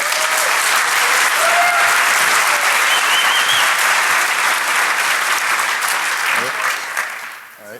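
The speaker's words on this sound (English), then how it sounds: "Please give him a big round of applause." Audience applause at the DEFCON 21 hacker conference for a first-time speaker, a loud, dense and steady wash of many hands clapping that holds for several seconds before tapering off at the end.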